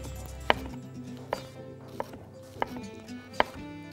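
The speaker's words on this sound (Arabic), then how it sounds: "وبعدين نقطع برضو الاخضرات، ما دي اخضرات برضو، بس ده بقى ايه هناخده بالسكينه كده. بصل اخضر" A knife chops green onions on a cutting board in a kitchen, with five sharp, evenly spaced cuts standing out alone over a low hum.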